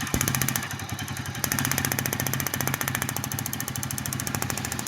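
A Bajaj Pulsar NS200 motorcycle engine, under repair for an electrical charging fault, starts and runs steadily with a rapid, even mechanical chatter, close and moderately loud, with no talking.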